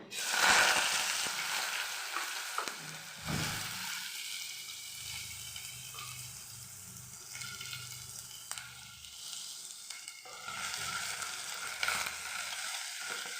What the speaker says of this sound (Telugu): తర్వాత ఆనియన్ను పచ్చిమిర్చి కరివేపాకు కూడా వేసుకోవాలి